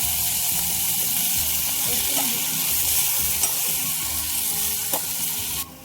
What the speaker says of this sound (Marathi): आता घेतलेलं चिकन सोडून घेऊ कांद्याचा सोडून घेऊ